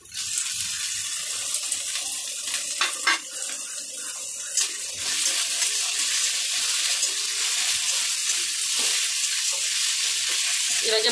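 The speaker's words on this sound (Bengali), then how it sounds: "এটাকে ভালোভাবে ভাজা ভাজা করে নেব।" A loud, bright sizzle of chopped tomato and garlic paste masala frying in a pan hisses steadily, close to the pan, with occasional scrapes and clatters of stirring.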